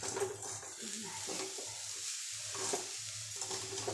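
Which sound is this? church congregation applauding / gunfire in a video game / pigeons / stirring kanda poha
stirring kanda poha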